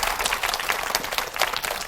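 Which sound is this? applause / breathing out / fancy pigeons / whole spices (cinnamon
applause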